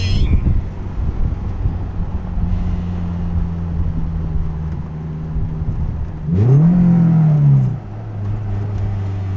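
A Honda S2000 engine drones steadily, then blips sharply upward in a rising rev swell as it downshifts into second gear, with wind rush around the cabin.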